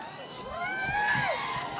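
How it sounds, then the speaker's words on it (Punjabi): Crowd at a farmers' protest at the Shambhu border, facing police, raising Sikh slogans: voices shout together in rising and falling calls at a distance, with a murmuring crowd around them. "ਹਰਿਆਣਾ ਪੁਲਿਸ ਵੱਲੋਂ ਵੀ ਜਿਹੜੇ ਨੇ ਬੋਲੇ ਸੋ ਨਿਹਾਲ ਦੇ ਨਾਰੇ ਲਾਏ ਜਾ ਰਹੇ ਨੇ"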